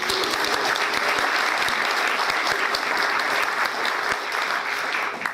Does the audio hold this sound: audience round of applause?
yes